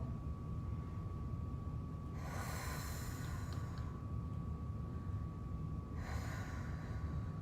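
Two slow, soft breaths during a beginner yoga session, each a breathy rush lasting over a second, separated by a quiet pause over a steady low background hum and a faint constant tone.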